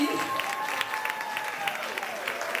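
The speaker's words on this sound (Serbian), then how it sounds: "ajmo veliki aplauz za njih!" An audience claps in steady, faint applause at an outdoor community sports event in Belgrade, with some crowd murmur underneath.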